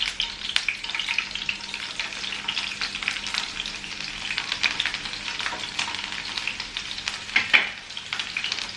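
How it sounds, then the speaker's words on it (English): Chopped garlic frying with chicken liver and gizzard in hot oil, a constant crackling sizzle with occasional stirring scrapes, close and moderately loud throughout. "So after frying this for 2-3 minutes, we can add this. We will first add this garlic."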